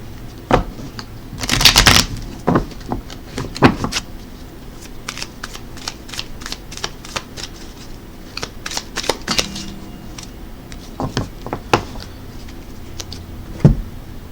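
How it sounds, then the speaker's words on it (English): A deck of animal totem oracle cards being shuffled by hand, with repeated crisp riffling bursts and card slaps spread across the stretch, close and fairly loud, with no talking over it. "let's go ahead and pull an animal totem card with a crystal on it"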